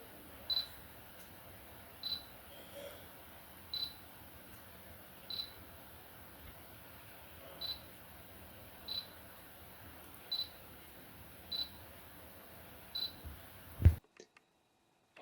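Autofocus motor of a Canon RF 24-105mm F4 L USM lens, making brief faint clicks and whirs at regular intervals of about one and a half seconds against near silence, with one louder bump at the end.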